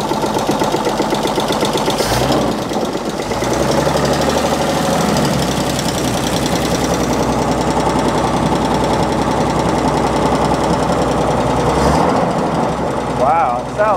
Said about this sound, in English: A little valve clatter.